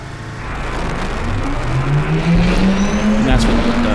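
An in-game car in No Time pulls away and accelerates after the reactor engages, its engine note climbing steadily over a steady loud bed of game ambience, with faint talk underneath.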